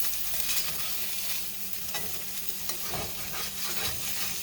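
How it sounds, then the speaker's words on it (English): Onions and garlic sizzling in a pan as they are stirred, a continuous crackling hiss with scraping and clinking of the spoon, close and steady, with no talking. "Keep mixing this around. Keep stirring it."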